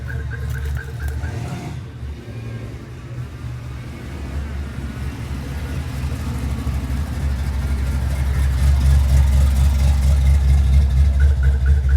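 A car engine runs steadily close by, with deep idling rumble, then swells and grows louder toward the end as the vehicle pulls away.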